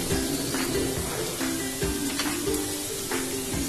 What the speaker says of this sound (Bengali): এবার এই আলু পেঁয়াজের সাথে এই জিরে গুঁড়ো, ধনে গুঁড়ো এগুলো মিক্স করব।